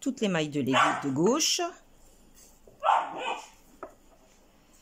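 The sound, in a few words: dog barking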